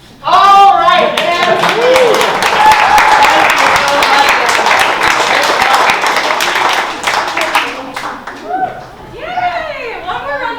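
Loud, enthusiastic applause from the audience at a children's theatre comedy class showcase, dense hand-clapping and cheering that swells at once, holds for about seven seconds, then dies away as voices speak over it.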